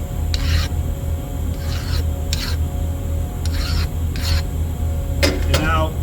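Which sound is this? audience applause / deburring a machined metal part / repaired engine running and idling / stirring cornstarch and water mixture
deburring a machined metal part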